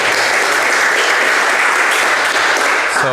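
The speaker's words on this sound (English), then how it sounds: "can I get a big clap for Marco?" An audience at a London web developers' meetup gives a loud, dense, continuous round of applause welcoming a speaker, steady throughout and close to the microphone.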